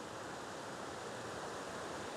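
Steady, broadband rush of waterfalls in Glen Etive, Scotland, heard as a continuous even roar with no breaks and no voices.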